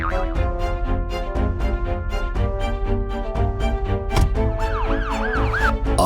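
An ambulance siren wails loudly and steadily throughout, its rising and falling tone continuous over an animated jungle scene near a river, with no talk.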